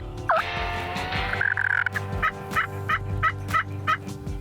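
Wild turkeys gobble in a wooded bottom on North Carolina game lands in Mitchell County, a series of about eight loud, rolling gobbles repeating every few tenths of a second, carrying from a moderate distance with no talking.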